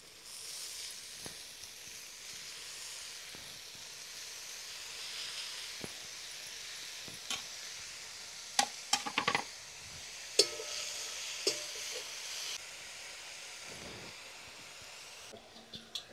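Chopped spinach sizzles and hisses in a hot kadhai after spices have been sautéed, with steady frying noise and a few sharp stirring scrapes and clinks of the spoon against the pan toward the middle.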